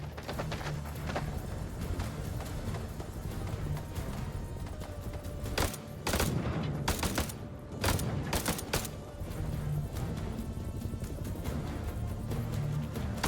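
Gunfire in the video game House of Ashes, a run of sharp bursts of shots in the middle of the stretch, some grouped close together, over a steady loud game ambience.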